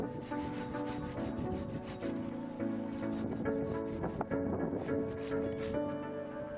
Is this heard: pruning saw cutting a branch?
yes